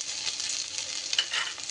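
Grated ginger sizzling in hot mustard oil with dried red chilli and five-spice tempering, a steady broadband hiss close up with a few soft stirring scrapes.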